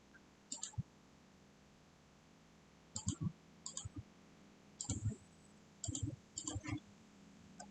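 Computer mouse clicking while modeling a wall-mounted foldable table in Solidworks: sharp, close clicks arriving in short clusters of two or three, separated by quiet pauses.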